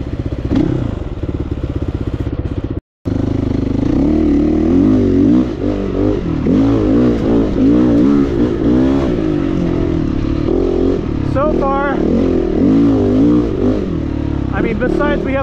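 A GPX dirt bike engine drones and revs close by on a dirt riding spot, running loud and steady under someone talking, with a brief cut partway through.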